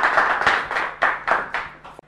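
Studio audience clapping on a television music show: a short, close burst of rhythmic claps, about seven or eight distinct beats in two seconds, ending abruptly.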